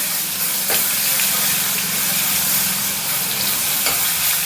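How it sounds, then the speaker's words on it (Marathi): Continuous loud sizzling and crackling of garlic frying in hot oil, with faint scraping of a spoon stirring. "लसण चांगला परतवून घ्यायचा आहे"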